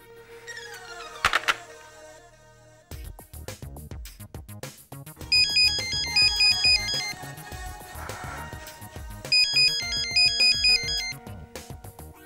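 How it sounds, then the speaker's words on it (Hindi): A melodic electronic ringtone plays in repeated bright phrases, loud and close, after a few thumps and clicks at the start. "Come on, pick up the phone."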